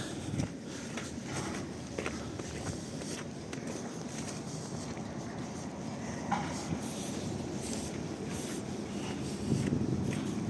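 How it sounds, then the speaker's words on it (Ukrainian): An old tram rolls along a snowy street in Lviv in late November, a steady low rumble with faint clatter and squeaks, heard at a moderate distance under a continuous hum of street noise. "Трамвайчик іде."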